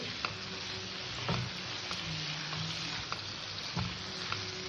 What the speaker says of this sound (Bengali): এবার ভিজে রাখা সবজিটা দিয়ে দিলাম সবজি কটা দিয়ে আমি আবার একটু কষে নেব